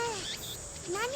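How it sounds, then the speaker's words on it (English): Dense, continuous cicada buzzing from the Steins;Gate game fills a brief moment at close, loud level, with faint sweeping tones drifting underneath. "Wow, these cicadas are really loud."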